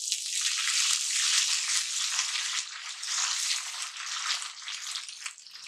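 Hot oil sizzles and crackles loudly and steadily as green coriander tempering for dal tadka fries, a bright frying hiss that rises and falls slightly without pause.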